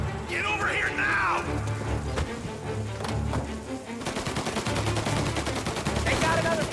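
Video game gunfire in Mafia: Definitive Edition, with bursts of rapid automatic shots and single cracks over several seconds, loud and close, mixed with other game sounds.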